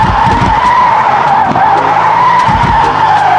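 Tires skid continuously as a McLaren 720S drifts in the Assoluto Racing video game, a loud sustained screech with engine roar underneath and brief surges throughout.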